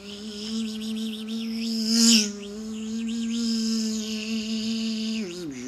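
A human voice hums a steady, sustained buzz to imitate a bee or drone, holding one pitch for several seconds with a brief wavering swell in the middle before sliding down at the end.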